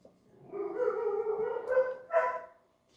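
A dog gives a short, whiny vocalisation, a drawn-out whimper followed by a brief yelping bark, close and moderately loud, ending in quiet.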